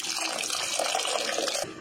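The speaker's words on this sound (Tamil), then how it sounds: "இது கூடவே எக்ஸ்ட்ரா கொஞ்சம் தண்ணி ஆட் பண்ணிக்கலாம்." Extra water is poured into a pot of postpartum medicinal curry. A steady, hissing splash runs for under two seconds and then stops abruptly.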